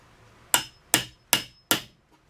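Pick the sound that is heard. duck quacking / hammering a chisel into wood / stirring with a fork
hammering a chisel into wood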